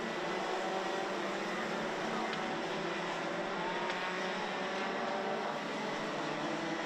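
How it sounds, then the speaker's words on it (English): Senior racing karts at a Genk circuit race hold a steady, loud, continuous engine drone as the pack pushes through a turn, with no talking. "Jaden Teen through into turn 6 for the final time."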